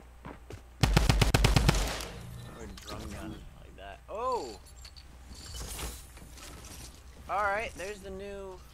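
Rapid burst of combat SMG fire in Fortnite, a loud, tightly spaced string of shots lasting about a second, followed by a few scattered mechanical clicks and thuds, with a voice talking intermittently afterward.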